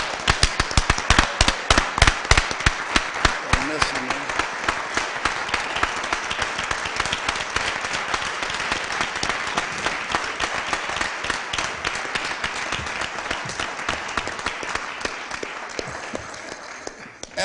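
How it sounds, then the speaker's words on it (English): Sustained audience applause fills a Board of Aldermen meeting room, dense clapping from many hands holding steady for about seventeen seconds before tapering slightly at the end. "Let's give Scott a big round of applause for a job well done."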